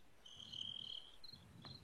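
Crickets chirp faintly in a quiet nighttime background, with a few soft, high trills and no talking.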